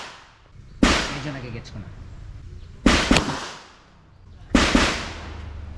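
A CZ P09 pistol fires three loud, close gunshots at target practice at 20 to 40 meters, each a sharp crack with a short decaying tail, spaced about two seconds apart, with faint talk in between.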